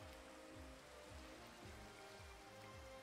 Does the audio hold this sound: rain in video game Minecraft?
yes